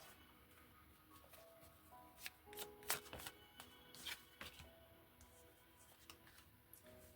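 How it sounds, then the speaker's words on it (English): Tarot cards being shuffled by hand, with soft continuous riffling and sliding broken by several sharper flicks and snaps, close but quiet, with no talking. "Let's pull some tarot."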